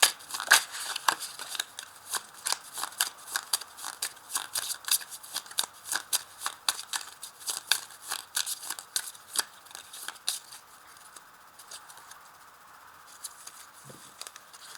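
Tarot de Marseille cards being shuffled, a rapid stream of crisp papery riffles and flicks up close for most of the stretch, thinning out and growing quieter toward the end.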